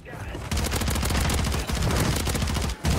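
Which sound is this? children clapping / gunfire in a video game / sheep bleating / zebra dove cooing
gunfire in a video game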